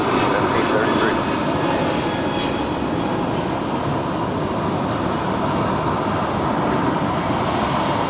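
A Delta jet airliner rolling across runway 25 right at LAX gives a steady, broad roar of engine noise that holds for the whole stretch, loud and even with no breaks and no one talking.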